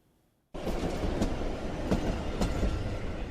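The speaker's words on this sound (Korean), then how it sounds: "바로 앞 중앙선 철로로 하루에도 수십 차례 기차가 다니면서 진동과 소음이 일어납니다" A train on the Jungang railway line runs past the historic Imcheonggak house in Andong, a loud, steady rumble with rhythmic wheel clatter beginning abruptly after a brief quiet and continuing close by.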